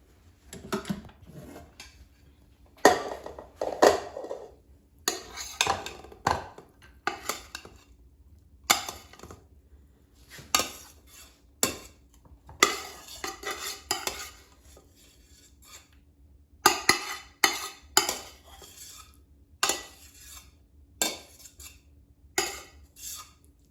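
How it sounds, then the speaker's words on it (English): Brown jasmine rice is scooped out of an Instant Pot with a utensil, producing repeated scraping and clinking of metal against the inner pot in irregular bursts separated by short pauses. "now let's take this rice out of the Instant Pot"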